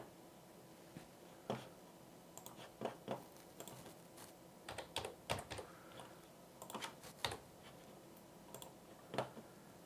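Someone typing on a computer keyboard nearby, scattered clusters of quiet clicky keystrokes with pauses between bursts over a soft background hiss.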